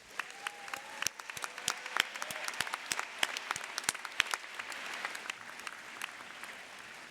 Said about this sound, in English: Let's give the people who made this day possible a big round of applause.